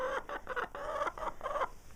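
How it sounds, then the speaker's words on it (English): Several farmyard chickens cluck and squawk close by in quick, uneven bursts, a busy chatter of overlapping calls with short gaps between. "I don't know why these chickens always have to tell me what they think."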